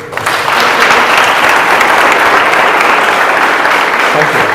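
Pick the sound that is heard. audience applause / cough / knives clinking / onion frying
audience applause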